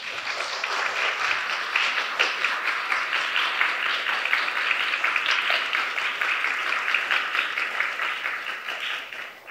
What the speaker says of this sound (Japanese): どうぞ拍手でお迎えください。